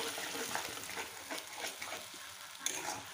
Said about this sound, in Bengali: এখন এটাকে ভালো করে সাঁতরিয়ে নিই